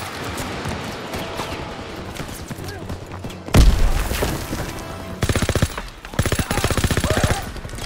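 Rapid bursts of machine gun fire from a German MG in a hayloft in Call of Duty: WWII's D-Day battle, with a heavy explosion midway, then loud, tightly spaced rattling volleys. Soldiers' shouting is mixed in.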